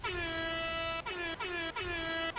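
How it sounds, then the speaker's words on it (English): Loud, blaring air horn blasts from the video game Team Fortress 2 repeat in quick succession, four or so honks with short gaps, harsh and close. "Hit the air horn again."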